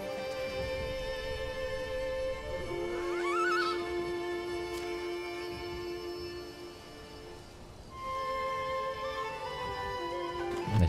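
Horse in the video game Medieval Dynasty, with whinnying and a neigh rising over steady game music, then a brief lull before the music resumes; no speech.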